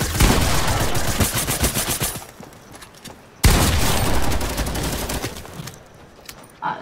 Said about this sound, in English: machine guns are actually broken. They just shoot whenever you don't want them to.